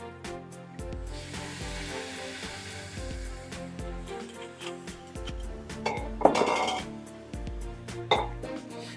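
White wine is poured into a hot pan of rice and vegetables to deglaze it, setting off a loud hissing, steaming sizzle that flares up sharply midway over soft clinks of the pan.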